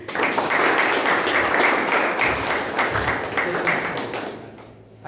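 An audience at a Toastmasters club meeting applauds a speaker with steady, dense clapping that carries loud and continuous through the whole stretch, tapering slightly near the end.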